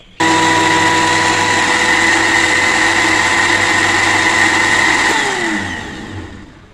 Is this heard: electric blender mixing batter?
yes